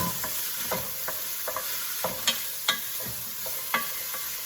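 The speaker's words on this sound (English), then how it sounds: "I'm just going to lightly toss this around. Kind of see what I'm doing here. Just to coat everything nice with olive oil." Pasta ingredients being tossed with olive oil in a pan for marinara, giving soft scattered clinks and scrapes of stirring over a faint steady sizzle, close and alone.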